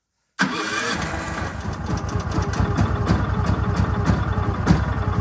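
A Kraft & Dele KD 187 generator engine starts abruptly after a moment of silence, then settles into a loud, steady, close-up running drone with a rhythmic mechanical pulse.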